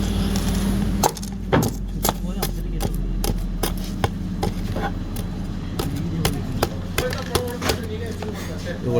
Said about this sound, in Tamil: இப்போ லாக் ஸ்க்ரூ போடுறது